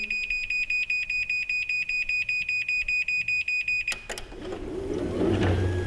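A LiftMaster Chamberlain side-mount garage door opener beeps rapidly and evenly in a high electronic tone for several seconds while setting its travel and force limits, then stops abruptly, giving way to mechanical clatter and a rising motor hum.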